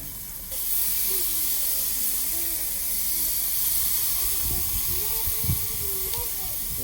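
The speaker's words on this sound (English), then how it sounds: "you're going to take the steak, flip it over" Flank steak sizzles on a grill as a steady, loud hiss that runs throughout, with faint voice-like murmurs and a brief crackle near the end.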